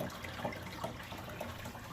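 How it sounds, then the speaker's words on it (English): A pump pushes prepared saltwater into a reef aquarium tank, giving a steady, soft gurgling splash of water with small bubbling pops, close and continuous. "now we have the pump pumping water and refilling the tank"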